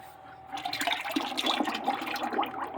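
Used motor oil and water gush out steadily through an opened drain valve after a brief quiet start, a continuous rushing flow that stays fairly loud until the end.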